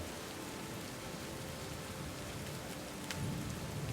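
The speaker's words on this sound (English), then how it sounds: "As the rain falls pretty hard, and the late afternoon comes upon." Heavy rain pours steadily in the survival game Quest for the Frozen Flame, a dense even wash of falling water with a low rumble of thunder rising near the end.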